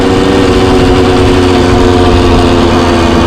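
A 1978 Yamaha DT175 two-stroke motorcycle runs steadily at idle after a kick start, its engine a loud, close, continuous buzzing drone with an even pulse and no pauses.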